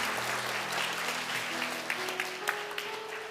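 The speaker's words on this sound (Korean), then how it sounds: "우리 큰 박수로 축복하겠습니다." A church congregation at a Sunday worship service in Bellevue applauds a discipleship-course graduate receiving a certificate, with dense, steady clapping that fills the room and sustained low instrumental tones beneath.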